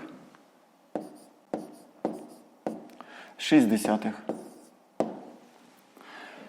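A pen writes out a fifth-grade math solution on paper in short, evenly spaced scratchy strokes, close up, with a brief voice speaking partway through.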